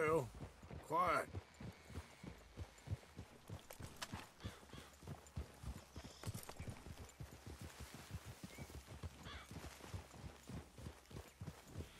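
Horse hooves clip-clop in a steady walking rhythm in the video game Red Dead Redemption II, fairly quiet, with brief voices and a few louder sounds early on.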